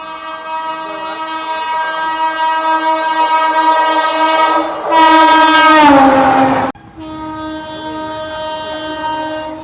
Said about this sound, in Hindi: शताब्दी एक्सप्रेस ओवरटेक कर रही है हमें।